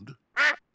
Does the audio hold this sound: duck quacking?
yes